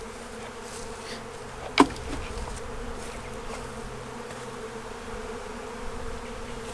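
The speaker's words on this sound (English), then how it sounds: "Just going to shake the field bees off of it." A dense, steady hum of honey bees buzzing around an open hive as field bees are shaken off a frame, with one sharp knock partway through and the drone continuing unbroken.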